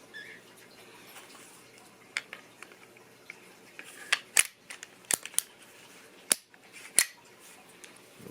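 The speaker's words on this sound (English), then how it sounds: "just going to put the slide back on." Slide sliding back onto a Girsan Regard pistol, a Beretta 92 type, heard as scattered sharp metallic clicks and scrapes of varying loudness over a quiet background.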